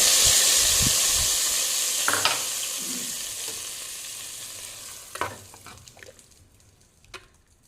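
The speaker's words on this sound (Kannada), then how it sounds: "ಒಗ್ಗರಣೆಯನ್ನು ಹಾಕ್ತಾ ಇದ್ದೇನೆ" Hot oil sizzles loudly as a tempering goes into a pan for a basale and jackfruit-seed dish, a strong hiss that fades steadily, with a few scrapes and clinks of the spoon near the end.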